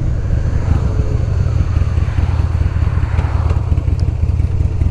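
A 2006 Buell XB12R Thunderbolt motorcycle engine under way, a loud steady low rumble with wind buffeting the microphone throughout, no talk.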